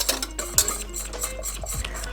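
A thickened crêpe-cake custard is stirred in a saucepan pulled off the heat, giving soft, irregular scrapes and light clinks of a utensil against the pan, fairly quiet and close with a steady low hum beneath.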